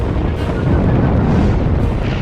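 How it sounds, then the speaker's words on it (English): A loud, dense roar of an explosion and burning ammunition on a World War II aircraft carrier deck after a bomb hit sets a Hellcat fighter ablaze, a continuous rumbling blast without distinct separate bangs. "The explosion sets fire to a nearby Hellcat. Its ammo ignites."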